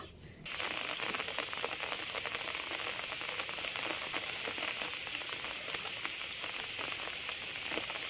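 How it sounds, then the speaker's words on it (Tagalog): Heavy rain starts abruptly by a river and keeps up a dense, constant patter on a nearby surface, loud and unbroken. "Malakas ang ulan."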